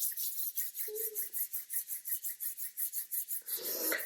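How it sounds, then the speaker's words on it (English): Someone rubs oil briskly between their palms, making a steady rhythmic rasping swish with about a dozen even strokes and no talk. The rubbing is close and soft. "Rub it into your hands."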